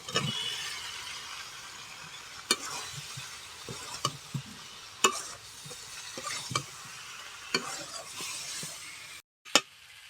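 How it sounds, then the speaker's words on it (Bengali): Potatoes with spices and peas being stirred in a pan, with low frying sizzle broken by sharp clinks and scrapes of a utensil against the pan, spaced irregularly and fairly close. "আলুটা কিন্তু ভালো করে কষে নিয়েছি মশলার সাথে"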